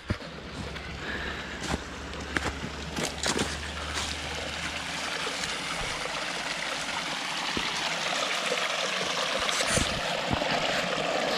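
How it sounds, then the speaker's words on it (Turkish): Water flows and trickles steadily near at hand, a constant bubbling wash with a few sharp knocks and clicks in the first half and the flow growing fuller and brighter toward the end. "Şırıl şırıl."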